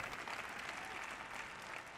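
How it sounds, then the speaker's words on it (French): Faint, distant audience applause at a church conference, a soft steady patter of many hands that stays low and even without any break. "Vous n'applaudissez pas très fort."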